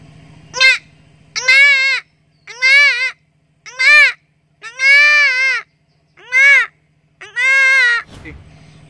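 A voice imitates a goat bleating: seven short, wavering, nasal bleats in a steady series, close and loud, with brief pauses between them.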